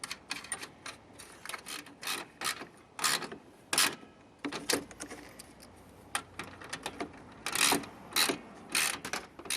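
A ratchet wrench with a 13 mm socket tightens the bolts on an overland winch bumper, giving bursts of quick clicking ratchet strokes separated by short pauses, close up and alone.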